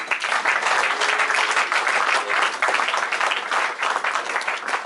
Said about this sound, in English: I hope you people really applaud him from here